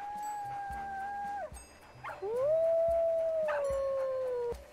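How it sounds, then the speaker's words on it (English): A coyote in the video game WolfQuest gives long, clear, wavering howls, one sliding down and breaking off before a second, louder howl rises and holds, with faint yips layered behind. "Okay, coyote."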